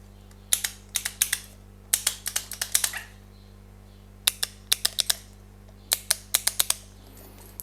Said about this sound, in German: Auf der Rückseite haben wir 2 Schaltpedals. Hier jetzt auch einmal vom Geräusch.